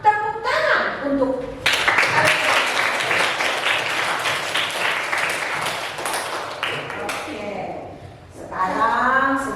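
Children in a junior high classroom break into clapping after a short spoken line, a dense burst of applause lasting several seconds before a voice resumes talking.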